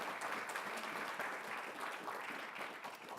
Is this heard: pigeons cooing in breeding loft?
no